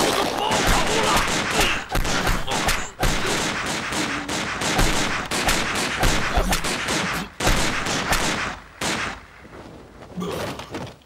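Heavy gunfire from a war film about fighting against the Japanese army pours out in dense, loud bursts and volleys, broken by short gaps, sustained for about eleven seconds.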